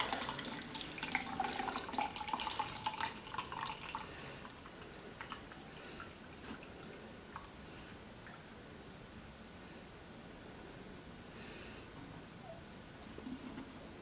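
Half a litre of water poured into a cup at home, a trickling, splashing stream that is busiest at the start and then settles into a soft, steady, fairly quiet wash of water noise, with no talking.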